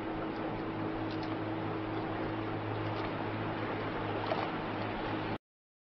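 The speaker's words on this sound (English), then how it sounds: "Yacht." A yacht moves on water with a steady wash of broadband noise and a constant low engine hum beneath it, continuous and even for about five seconds before it cuts off abruptly.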